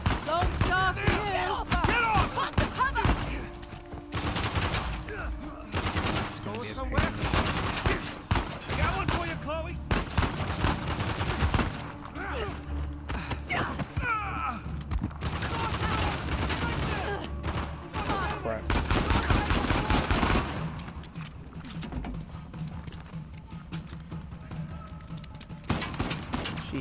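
Rapid gunfire rattles through a firefight in Uncharted: The Lost Legacy, with bursts of automatic shots and heavier thumps that keep coming in dense waves over nearly half a minute, while people talk over the shooting.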